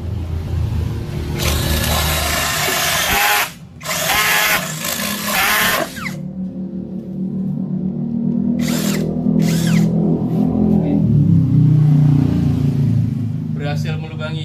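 An electric drill whirs loudly in long bursts, its motor starting and stopping while the drill bit fails to turn, with a person speaking nearby between the runs.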